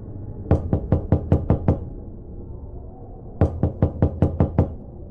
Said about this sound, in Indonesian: tiba-tiba suara ketukan pintu terdengar dari luar